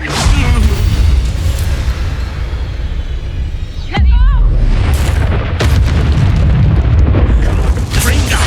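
A Confringo blasting spell detonates in Hogwarts Legacy, a single deep, loud boom partway through followed by whooshing magical effects and busy game sounds, with voices faintly present.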